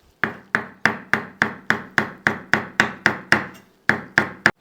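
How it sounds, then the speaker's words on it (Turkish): Steady knife chops through parsley on a cutting board, about fifteen sharp evenly spaced knocks with one brief pause near the end, close and clear with no talking. "Biraz da maydanoz doğrayacağız."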